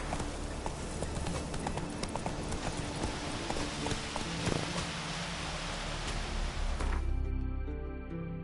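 A horse galloping in The Witcher 3, a rapid steady drumming of hoofbeats close by that carries on for several seconds before breaking off into quiet ambience.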